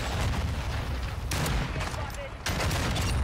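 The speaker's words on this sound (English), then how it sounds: "that rocket launcher almost killed me" Explosive rocket launcher blasts in the video game Modern Warfare 2: two sharp broadband bursts punch through a dense wash of continuous in-game gunfire, loud and close.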